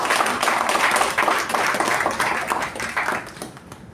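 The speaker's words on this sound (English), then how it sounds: "So I think we can give them a huge round of applause." A room full of people at a Toastmasters club installation ceremony applauds its officers, steady dense clapping up close that fades out at the end.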